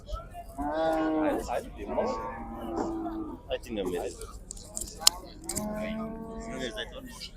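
Cattle moo repeatedly at a livestock market, with several long, nearby moos spread across the stretch. Voices talk between and beneath the calls.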